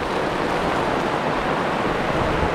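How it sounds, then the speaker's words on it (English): Dense, constant roar of heavy rain at a campsite in Voyageurs National Park, a loud unbroken hiss with no pauses or voices. "Yes, it is raining quite hard."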